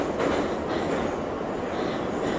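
A train rumbles loud and steady with dense rail noise and faint wheel clatter, heard continuously from close by with no speech.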